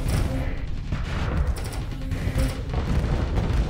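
Heavy gunfire from a giant ship-mounted cannon in the Nexerelin mod of the Star Sector space combat game: dense, continuous rolling booms and blasts with steady loud rumble throughout, no talking.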